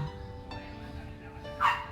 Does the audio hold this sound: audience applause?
no